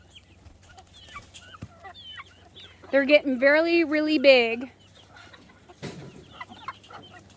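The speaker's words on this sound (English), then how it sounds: "They actually look like chickens now. They still kind of chirp though." Backyard flock of growing baby chicks making a burst of high chirping and clucking calls, fairly close, with a person talking briefly before and after.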